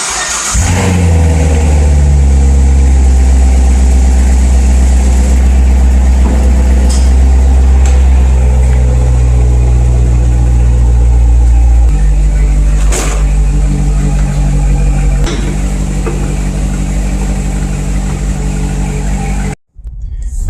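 A Traxxas Bigfoot RC car with lights running outdoors at night, its electric motor whining and revving loudly, pitch rising and falling before cutting off abruptly near the end.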